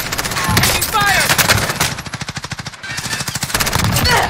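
Rapid enemy machine-gun fire in the Call of Duty Warzone video game, loud sustained bursts of automatic shots with brief gaps, a voice briefly shouting in the mix.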